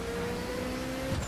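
Ferrari F40 engine in the racing game The Crew, a steady tonal drone at cruising revs for a brief moment, fairly faint, alone without talk.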